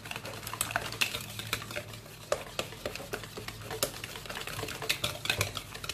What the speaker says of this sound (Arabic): انا غادي نضرب غير يعني بالخلاط اليدوي